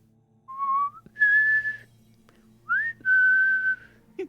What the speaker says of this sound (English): he absent-mindedly whistles to himself